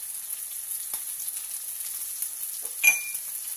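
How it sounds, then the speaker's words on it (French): A salmon fillet fries skin side down in a pan, a steady close sizzle with a brief clink of utensil against the pan partway through, no voices. "je mets mon petit saumon. C'est parti. Donc là, on le cuit côté peau."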